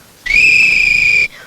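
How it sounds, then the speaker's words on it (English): A single loud, steady whistle blast holding one piercing pitch for about a second, starting and stopping abruptly, with a faint tail after it, in a children's puppet show setting. "It's a whistle"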